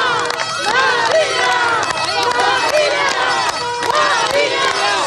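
Crowd of fans shouting a singer's name during her funeral procession, a loud, continuous chant of many voices with rising and falling calls, close and dense throughout.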